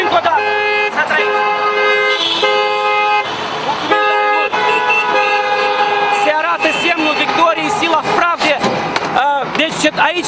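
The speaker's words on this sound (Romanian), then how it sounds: "Aici claxonează toți cetățenii, indiferent de cum se numește limba" Car horns honk again and again at a street protest against Dodon in Moldova, overlapping toots and long blasts sounding close and loud over constant traffic noise, with voices mixed in.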